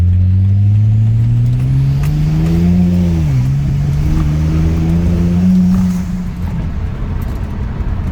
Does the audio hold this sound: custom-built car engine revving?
yes